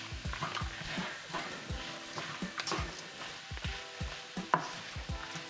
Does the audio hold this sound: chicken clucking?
no